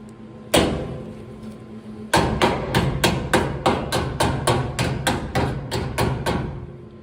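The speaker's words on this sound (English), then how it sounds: "I'm going to use my vice grip hammer here. I'm sorry, locking pliers," Vise-Grip locking pliers used as a hammer strike sheet metal on a 1958 Plymouth body, one sharp clank and then a quick run of about a dozen loud, evenly spaced metallic hits close by.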